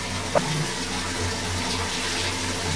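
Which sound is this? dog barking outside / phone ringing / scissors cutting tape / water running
water running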